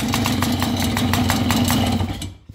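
A small engine with a newly swapped carburetor and crankcase runs close by, a steady loud putter with even rapid pulses that cuts off and fades near the end as it is switched off.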